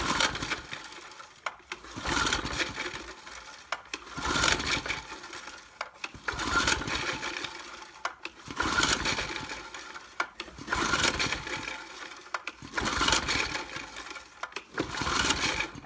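Old Maxim mini tiller engine pulled by its recoil starter again and again without catching, giving a regular rhythm of ratchety rope pulls about every two seconds, close and moderately loud.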